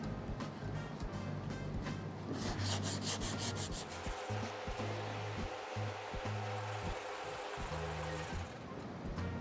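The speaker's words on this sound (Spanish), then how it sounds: "Esto se lija con 80 solo para cortarlo y 150 para terminar y poner primer" Coarse sandpaper, 80 and 150 grit, rubbed over a fiberglass repair. Close, rhythmic scratching strokes come in repeated bursts with short pauses between them, and no one speaks.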